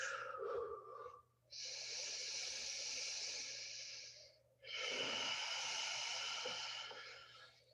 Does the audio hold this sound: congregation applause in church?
no